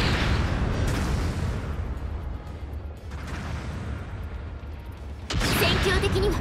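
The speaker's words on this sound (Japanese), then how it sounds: "後方部隊からの支援砲撃が来ます。" Support artillery bombardment in Gundam Battle Operation 2 rolls as continuous dense rumbling blasts, loud and sustained throughout, with a sharper, louder burst near the end.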